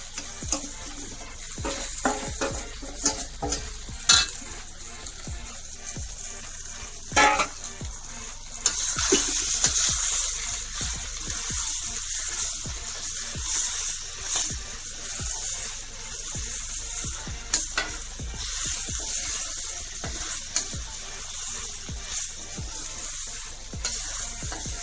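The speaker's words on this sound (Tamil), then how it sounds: "கொட்டி கிண்டி கிளறலாம்." Flattened rice (aval) upma being stirred and fried in a pan with softened onion and green chilli: steady close sizzling with repeated scraping and stirring clatter of a spoon against the pan, no voices.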